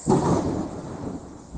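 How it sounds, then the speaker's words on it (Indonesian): Heavy rain with a deep rumble of thunder during a downpour, a loud broad roar that swells at the start and then settles into steady wash, no voices. "ini di sini hujan besar sama petir ini"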